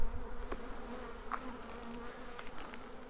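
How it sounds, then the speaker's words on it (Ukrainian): A swarm of bees buzzes in a dense, steady drone at close range, with a few individual insects flying past, while being removed from a tree; no voices. "Трохи бджоли злі"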